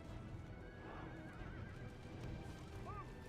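Horses in a video game neigh and whinny with rising, wavering cries over a steady bed of hoofbeats and battle din, one call near the start and another shorter whinny toward the end.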